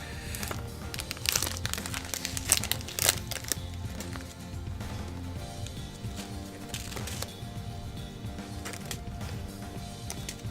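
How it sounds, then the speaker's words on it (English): Plastic parts bags for a Tamiya Volvo FH12 1/14 scale RC truck kit crinkle and rustle up close as the parts are packed back in, with irregular bursts of crackling and some quieter handling between. "I'm not making a very good job of putting these back in this bag."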